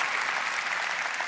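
Steady, dense applause from a large audience at the Ubisoft E3 2019 conference, loud and continuous throughout with no voices on top.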